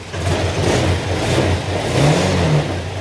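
A motorcycle engine, just refilled with gear oil, runs steadily at close range and revs up briefly near the end, a loud continuous hum with a rising pitch on the rev.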